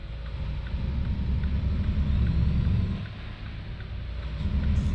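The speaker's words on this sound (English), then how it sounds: "that turbo is just crazy loud" A heavy truck in American Truck Simulator running the Rabbinicus engine pack drones loud and steady, with a throaty low rumble and a turbo whine over it, dipping briefly partway through and then building again.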